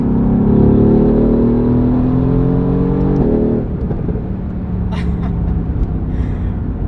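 A 2018 Mercedes-AMG GT R engine pulls hard with a rising roar, shifts abruptly through its 7-speed dual-clutch transmission, then settles into a lower rumble with a faint breath or voice briefly heard.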